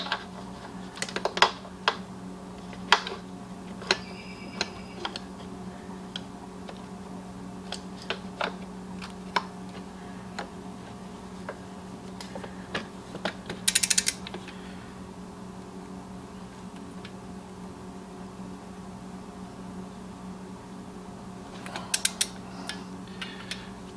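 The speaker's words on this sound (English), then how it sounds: "I've already got the torque wrench set to 44." Clicks and creaks of a torque wrench set to 44 foot-pounds tightening a bolt on a KTM 65 dirt bike during a clutch and water pump job, with scattered sharp ratcheting ticks over a steady low hum and no talking.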